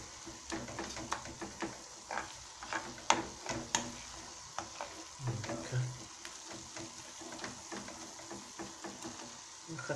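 Onion fries in a pan with a soft sizzle under rhythmic scraping and knocking from a utensil stirring, the strokes coming in steady irregular bursts at close range.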